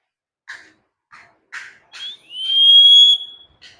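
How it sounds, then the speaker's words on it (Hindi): A self-contained breathing apparatus gives a pressure whistle as its cylinder valve is opened: a few short hissing puffs, then a clear, sustained high whistle lasting about a second, close and fairly loud. "देखा आपने शायद सीटी का आवाज सुना होगा, यानी कि प्रेशर आ चुका है।"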